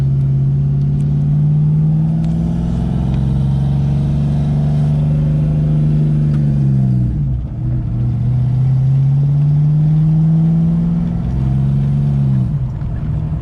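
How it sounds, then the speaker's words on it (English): Engine of a cheap project Ford Mustang with a check engine light, running while driving and hanging high in the revs; a loud, steady drone that dips briefly twice and climbs back, with no talking. "it's got some rev hang as well. It's wanting to stay up in the RPMs."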